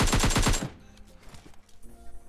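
Rapid automatic gunfire from PUBG Mobile Lite rattles out in a loud, evenly spaced burst of about six shots, then cuts off to a quiet, muffled game backdrop.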